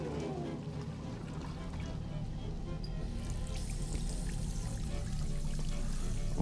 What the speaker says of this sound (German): Ja, das Wasser dreht sich links rum.